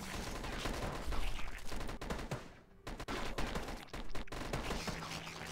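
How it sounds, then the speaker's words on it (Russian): Rapid, relentless turret gunfire from the mobile zombie game Dead Ahead: Zombie Warfare, a loud, dense fusillade of overlapping shots that briefly dips before resuming at full intensity. "стреляем, ребят. Без остановки бомбим."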